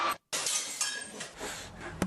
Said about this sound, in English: Are you throwing a woman holding a glass pitcher down a flight of stairs?